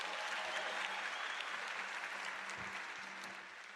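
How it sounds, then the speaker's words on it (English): A graduation ceremony audience applauds in a continuous, dense wash of clapping that fades a little toward the end, heard at moderate distance. "Please give yourselves a round of applause."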